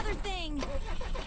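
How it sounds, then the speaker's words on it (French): A combine harvester engine cranks and catches in the VR game Drunk or Dead 2, with a rising whine settling into a running rumble while someone talks over it. "Ah, je suis allé trop vite pour démarrer le moteur."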